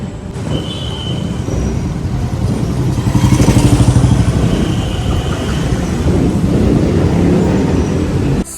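A motor vehicle engine rumbles loudly and close, swelling midway as it pulls off, then holds a steady drone until the end.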